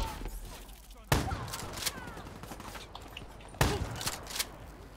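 Gunfire in Call of Duty Black Ops 3: two sharp, loud shot bursts with echoing tails, set against a busy game-combat backdrop of clatter and movement, with faint talk.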